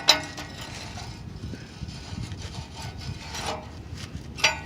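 A 22 mm wrench works loose a car's oxygen sensor, giving a low, steady gritty scraping with a sharp metallic click at the start and another near the end, nearby and fairly quiet.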